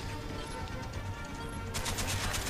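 An M60 machine gun with big ammo fires in Call of Duty Black Ops, a rapid burst of loud, close shots starting late in the clip over steady game background noise.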